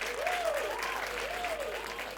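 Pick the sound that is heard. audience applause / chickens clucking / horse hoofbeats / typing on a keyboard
audience applause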